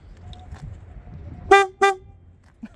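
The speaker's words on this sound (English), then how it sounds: "Let me show you the horn." Horn of a 2002 Harley-Davidson Sportster, two short loud beeps in quick succession close by, with a faint rustle before and after.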